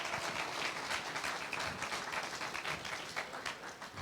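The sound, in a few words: audience applause for the Bluejay Singers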